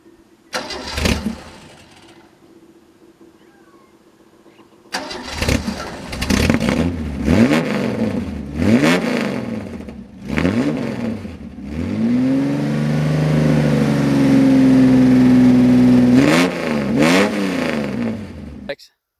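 A daily-driver car engine cranks and catches after a short pause, then revs up and down in several rising and falling pulls before holding a loud, steady high rev close by.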